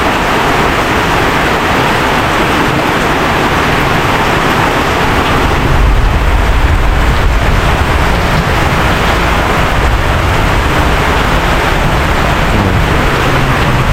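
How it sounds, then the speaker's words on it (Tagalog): Heavy rain pours down during a night storm with thunder and lightning, a loud continuous roar with a deeper rumbling swell partway through. "kasi lakas ang kidlat tsaka ulan talaga"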